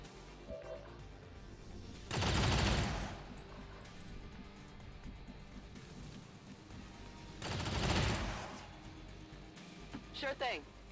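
Suppressive gunfire in an XCOM mod video game comes as two separate loud bursts of sustained shooting a few seconds apart, with quieter game sounds between them.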